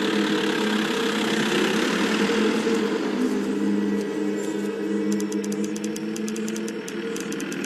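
A vehicle engine idles steadily at a checkpoint, a continuous low rumble holding throughout with no talk over it.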